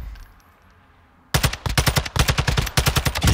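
An M4 rifle fires in Call of Duty MW2 DMZ. After a quiet lead-in, loud, close, rapid automatic bursts come in several strings with brief gaps between them.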